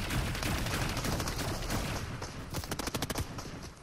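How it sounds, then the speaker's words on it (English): Pulse rifle fire in Fortnite, a dense continuous stream of rapid shots that gives way to a quicker stuttering burst near the end, loud and close. "This pulse rifle is nasty"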